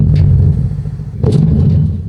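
A Bentley Flying Spur Mulliner hybrid's engine revs in two short bursts, a loud, close rumble that rises, dips, then climbs again toward a soft limiter.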